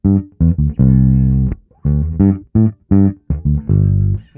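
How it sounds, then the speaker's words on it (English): A bass guitar plays a funky blues line built on the major pentatonic in forward position, loud and close, with short punchy notes and rests between phrases and one long sustained note early on, heard alone. "one fundamental bass line which really ramps up the energy"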